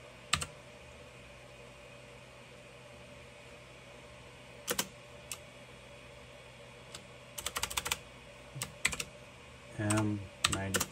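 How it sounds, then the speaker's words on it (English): Computer keyboard keys typed in a few short bursts of clicks, clear over a steady room hum and a faint background whir, entering a G-code command while calibrating the extruder steps of a Tronxy X5SA 3D printer. "what I'm going to do is type in M, what is it, M92."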